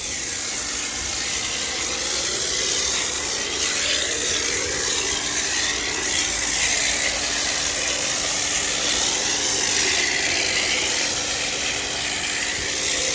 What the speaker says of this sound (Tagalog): Even if you spray it from a distance, you see the foam is quite runny compared to the other one.